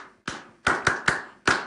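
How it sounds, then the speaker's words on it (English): Studio audience clapping on a TV morning show, heard as five sharp, distinct bursts of applause-like claps spaced unevenly, fairly close and clear. "Clap for Nana Addo."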